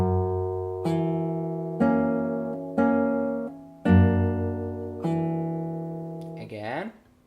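Fingerstyle acoustic guitar playing an arrangement: a series of plucked notes and chords, each ringing out and decaying before the next, ending with a brief slide or bend, close and clear without talk.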